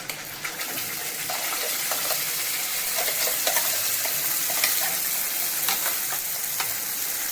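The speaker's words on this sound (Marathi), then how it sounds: "आता आपण मसाला फ्राय करून घेणार आहोत." Masala fries in oil in a kettle-style pan for a Maharashtrian black fish curry, a continuous bright sizzle with occasional light stirring scrapes, close and steady.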